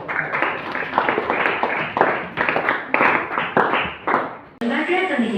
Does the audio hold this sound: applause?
yes